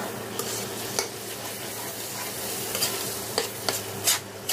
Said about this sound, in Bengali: অনবরত নাড়তে থাকতে হবে এবং চুলার জালটা মিডিয়াম টু লো ফ্লেমে রাখতে হবে